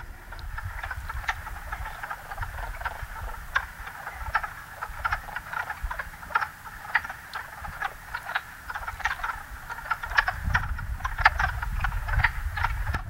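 A chorus of wood frogs croaking at a vernal pool, many overlapping clucking calls in a steady busy rhythm, some near and some farther off, with no voices.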